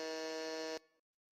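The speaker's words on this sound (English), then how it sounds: "so you heard the buzzer, right?" A quiz game buzzer sounds once, a loud, steady harsh tone lasting just under a second, then quickly decays to silence.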